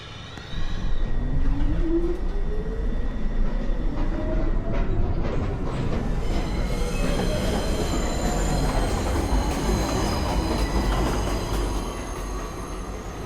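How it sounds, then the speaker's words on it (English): A downtown Local 1 subway train rolls into an elevated station at night, its rumble growing loud and close with rising wheel squeal and clatter. Pigeons coo faintly in the background. "Downtown Local 1 train. Approaching the station, please stand away from the platform edge."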